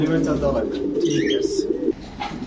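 Pigeons coo in a low, throaty, continuous murmur at a pigeon market selling Danish, King and house pigeons, with a few higher chirps and nearby voices talking.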